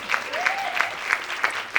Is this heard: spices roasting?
no